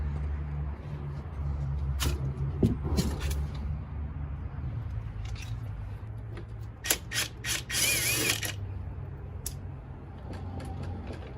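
A ratchet wrench clicks in short bursts while the front wheel is removed from a wrecked moped in a workshop, with metallic scrapes and rattles over a low background hum.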